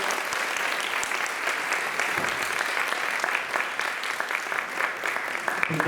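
A gathered audience gives a poet another round of applause at a Swami's birthday celebration in Bradford, dense clapping sustained evenly for about six seconds at a moderate, slightly distant level.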